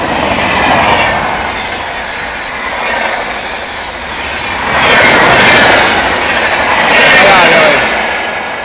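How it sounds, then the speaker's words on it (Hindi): The Swarna Jayanti Express passes the New Delhi Rajdhani Express at about 130 on Indian rails. Heard from on board, there is a loud, continuous rolling roar with swelling rushes and a faint squeal, without a break. "नई दिल्ली राजधानी एक्सप्रेस, ओवरटेकिंग बाय स्वर्ण जयंती एक्सप्रेस।"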